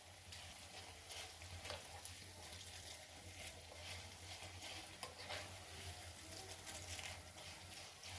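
Eggplant and tomato dal base frying in a pan with steady stirring, a continuous soft sizzle and scraping of a spoon, fairly quiet with a low hum underneath.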